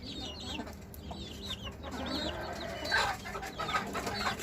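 Chickens and a rooster on a rooftop cluck and squawk in repeated bursts at close range, with fowl calls overlapping against outdoor background noise and no talking.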